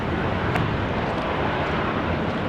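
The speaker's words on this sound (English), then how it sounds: "we're just going to check out the A321 Neo from Air New Zealand, which is heading off to Christchurch" An Air New Zealand A321neo airliner roars on its takeoff run at Sydney Airport, a steady, broad engine rumble with wind buffeting the microphone, no voices.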